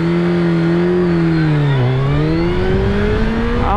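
A 2022 Suzuki Hayabusa motorcycle pulling away hard from a standstill toward 100, the engine rising in a strong continuous whine, dipping briefly at a gear change and climbing again, loud and close with no talk.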